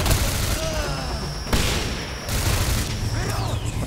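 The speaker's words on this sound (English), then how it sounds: "It's kind of a pathetic grenade" Grenade explosion in the video game Singularity: a loud, dense burst of blast noise that stays heavy, with a sudden sharp crack partway through, amid ongoing combat din.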